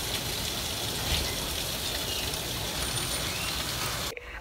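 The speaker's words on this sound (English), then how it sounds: "it is now raining outside" Rain pouring outside during a tropical storm, a steady dense hiss of drops with a faint gushing edge, constant in level and alone, ending in an abrupt cut near the close.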